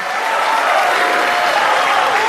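Dense, steady applause from a large audience at a 2014 Indonesian presidential and vice-presidential televised debate, loud and sustained throughout with no pauses.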